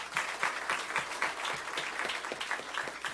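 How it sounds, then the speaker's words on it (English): Applause from an audience at a school board of trustees meeting honoring Teacher of the Year Don Dumas, a steady, moderately distant patter of many hands without voices. "So let's give him a round of applause."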